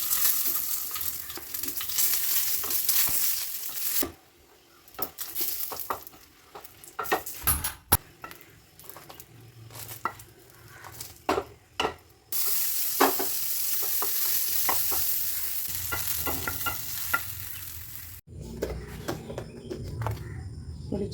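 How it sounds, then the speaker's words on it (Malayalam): Shallots and chili frying in sunflower oil, a loud steady sizzle with stirring scrapes and clinks from a pan, interrupted by brief quieter gaps before the crackle resumes at full strength. "ചെറിയുള്ളിയും മുളകും നമുക്കൊന്ന് വെളിച്ചെണ്ണയിലാണ് ശരിക്കും നല്ലോണം മൂപ്പിച്ചെടുക്കുക"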